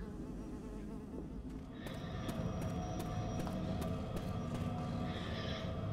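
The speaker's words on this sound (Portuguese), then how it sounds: "O efeito mosca do chapéu do Team Fortress." A swarm of flies buzzes from a hat cosmetic in Left 4 Dead, a steady insect drone mixed into game ambience and getting somewhat louder partway through.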